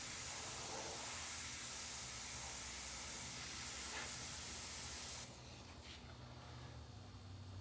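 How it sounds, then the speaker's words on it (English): A cheaper airbrush sprays paint in a steady, loud broadband hiss that runs without a break for about five seconds, then cuts off abruptly, leaving only a quiet background. "But it is a cheaper airbrush."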